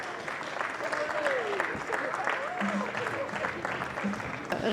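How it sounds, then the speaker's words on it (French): An audience at the Grands Prix du made in France ceremony applauds as guest Elisabeth Assayag is welcomed: steady, dense clapping throughout with a voice faintly over it. "On peut l'applaudir."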